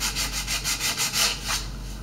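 Wood with red paint is sanded by hand in quick, rhythmic back-and-forth strokes, about ten rasping passes in two seconds, close and clear with no talking.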